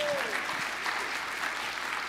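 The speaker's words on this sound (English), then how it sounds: "another big round of applause, please." Audience applause at a housing panel during a livability summit, a steady broadband wash of many hands clapping together throughout, with a brief whistle-like tone near the start and no talk over it.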